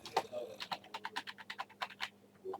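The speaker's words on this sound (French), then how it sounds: "Donc j'essaie toutes les touches de mon clavier rapidement pour voir s'il n'y a pas une touche qui déclenche le canon." Rapid pressing of computer keyboard keys: a quick, fairly even run of a dozen or so close, light clicks, moderately faint over a steady low hum.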